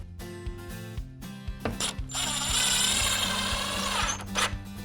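A power drill whirs in bursts and then runs steadily as it drives a screw through a Fibo wall panel base profile into the nailing lip. The sound is close and loud, and no one talks.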